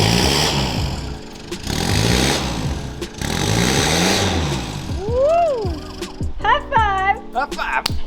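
A Mitsubishi Delica 2.8TD L400 diesel with a loud new exhaust revs hard in repeated surging blips, deep and close. Vocal sounds and higher whistling tones follow near the end.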